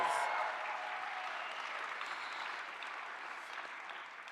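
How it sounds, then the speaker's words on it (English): Audience applauding at a senior graduation ceremony, a steady, fairly distant wash of many hands clapping that holds evenly for several seconds. "Big round of applause."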